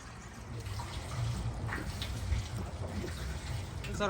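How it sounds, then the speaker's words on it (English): Coolant poured into a Kenworth W900 truck during a restoration, a steady liquid stream running and splashing for several seconds with a broad, continuous wash of sound and faint voices in the background. "And we're finally pouring in the coolant."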